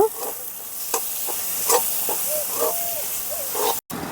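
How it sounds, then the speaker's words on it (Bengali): Spice masala with chopped tomato is sautéed in oil in a pan for a Bengali fish curry, a continuous hissing sizzle with intermittent spoon scrapes, close and fairly loud. "এই পর্যায়ে আমি দিয়ে দেবো টমেটো কুচি। আবারও ভালো করে মশলাটাকে কষিয়ে নেব।"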